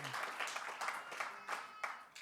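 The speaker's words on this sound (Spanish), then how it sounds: "Y un aplauso fuerte a mi Señor" Congregation applause in a church service, broadband clapping bursts in several surges over a couple of seconds, moderately distant and fairly faint.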